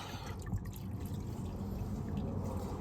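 A steady pour of used motor oil drained from a 2007-2012 Lexus ES350, thick and continuous, with a low gurgling texture and faint dripping, lasting the whole stretch.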